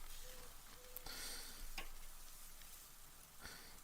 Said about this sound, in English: throw the sausage on back there and let them just start cooking